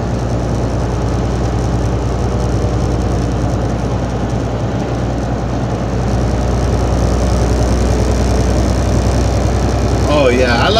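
Loud, continuous low rumble of a car engine idling close by, steady throughout with a faint voice near the end.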